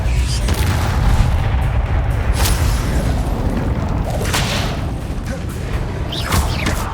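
A spell being cast in the Hogwarts Legacy game, played on a Steam Deck: a continuous dense roar of booming, whooshing magical impacts, loud throughout, with a few sharper bursts layered over the rumble.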